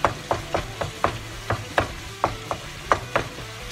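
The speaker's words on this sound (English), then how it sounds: "Just trying to break this meat up." Lean Angus ground meat being broken up in a stone frying pan, with a steady series of sharp scraping clicks from the utensil against the pan, roughly three per second, under a low background hum.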